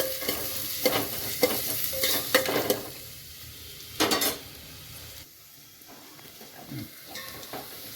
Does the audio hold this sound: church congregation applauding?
no